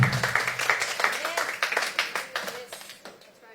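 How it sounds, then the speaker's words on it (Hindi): A church congregation clapping for the Lord in worship, a rapid, dense run of hand claps that starts loud and slowly fades, with a preacher's voice faintly mixed in. "When you clap for Him, clap with all your heart."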